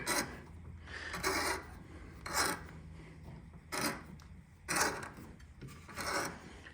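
A thread tap cuts threads into a metal tube for an under-cabinet air tool hanger, giving rhythmic rasping scrapes in bursts about once a second, close and fairly quiet, with no talking.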